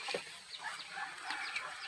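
Soft, quick clucks from a chicken, a few short calls spread across the moment, fairly faint against quiet outdoor background.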